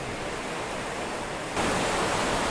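Constant rushing wind through trees during Tropical Storm Hone on a golf course, a broad steady roar that grows louder partway through, with no voices.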